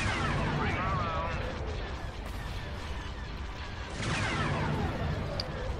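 Bomb blasts from the Star Wars strategy game Republic at War, two heavy booming bursts with a long rumbling tail, loud and close, with people talking faintly underneath.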